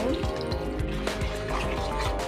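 Water is poured into a pan of pepper curry (milagu kuzhambu) as it cooks, giving a continuous trickling, splashing pour at close range with faint sizzling beneath.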